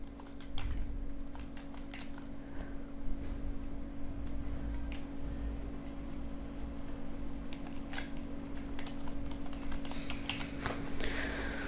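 Someone types an email address on a computer keyboard during an online application, a continuous patter of fast key clicks with occasional sharper taps over a steady low hum from nearby equipment.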